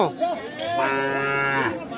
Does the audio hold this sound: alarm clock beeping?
no